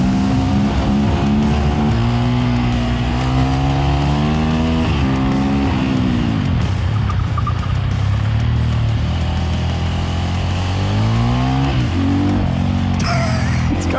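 A Sherco 500SM supermoto motorcycle revs hard and close, its single-cylinder engine rising and falling through repeated throttle blips over a steady roar, loud and continuous with no voices.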